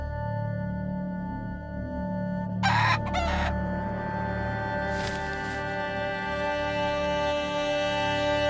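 Chickens cluck steadily close by while a rooster crows in a couple of short bursts, set in an animated 3D folk-tale scene with a tonal backing hum.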